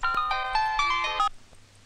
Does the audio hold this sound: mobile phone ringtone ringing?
yes